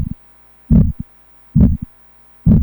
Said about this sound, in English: That's a fish. And not just any fish. It's the world's tiniest fish.